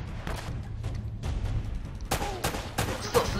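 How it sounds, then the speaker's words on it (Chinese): Gunfire erupts in the video game Uncharted during a gunfight, with several sharp shots spaced over a few seconds against a steady, rumbling game backdrop. "马上就是一场激烈的枪战"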